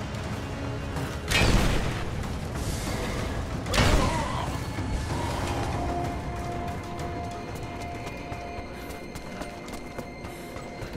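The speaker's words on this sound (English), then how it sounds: "And fire the trebuchet." A trebuchet fires in Rise of the Tomb Raider: two loud creaking, booming launches a couple of seconds apart, set over a steady mechanical rumble and game ambience with no talk.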